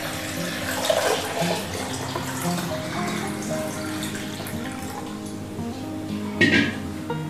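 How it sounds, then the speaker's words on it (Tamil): Water pours steadily into a kitchen pot with a continuous splashing trickle, ending in a brief clatter of the vessel. "இதுல இருக்க தண்ணிய இந்த பாத்திரத்துல இதுல இருக்க தண்ணிய நான் ஊத்திக்கிறேன்."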